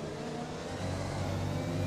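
A Honda-powered Red Bull Formula 1 car in a racing video game revs steadily, its engine note building slightly louder over a short stretch with no other sounds.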